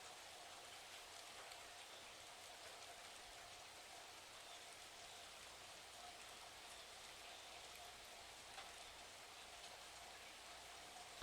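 Steady, soft rain falls continuously with an even hiss and no voices, faint but unbroken throughout.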